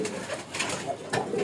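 A male desi pigeon at a pigeon farm gives soft, low cooing calls, a few rolling coos at moderate distance over light background noise.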